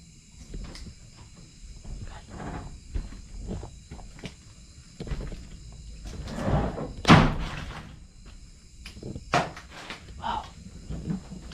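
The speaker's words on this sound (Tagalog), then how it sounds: "Nirado yung pinto" A wooden door is shut inside an old, quiet building, with scattered knocks and creaks before one loud thud near the middle, followed by further bumps and faint shuffling.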